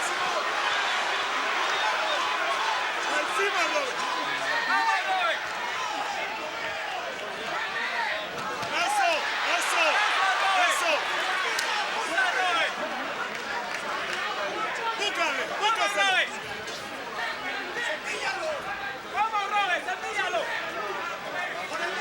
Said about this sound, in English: Now you can hear the crowd again.